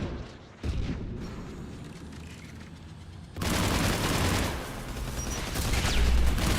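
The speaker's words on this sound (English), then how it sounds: "Stop shooting me" Enemy gunfire in the Mass Effect video game, a dense barrage of bursts and booms that starts abruptly and grows louder, with rapid continuous shots layered over game effects.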